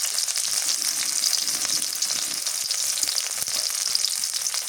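Green chillies frying in hot oil alongside onion, a dense, continuous close-up sizzle with crisp popping and occasional stirring clicks, no talking.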